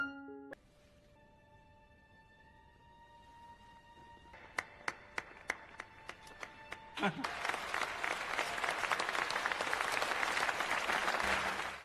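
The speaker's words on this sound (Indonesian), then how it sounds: "Semua orang bangkit dari tempat duduk dan memberikan tepuk tangan meriah" After a short chiming tone, an audience celebrating Bobby Fischer's chess victory breaks into applause that starts as scattered claps and builds into loud, sustained clapping from a large crowd.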